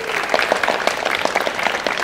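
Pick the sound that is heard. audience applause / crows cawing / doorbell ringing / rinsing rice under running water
audience applause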